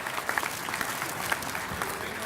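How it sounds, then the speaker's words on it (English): A crowd at a speaker event claps steadily and warmly for an honoree, a dense continuous applause with a few sharper claps near the front and voices mixed in. "We have, it's applause for Whitney."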